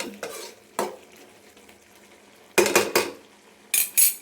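Tomato gojju, a tomato gravy, cooks in a pan with a soft bubbling sizzle, broken by several sharp clatters of a utensil stirring against the pan in quick bursts, close by and without speech.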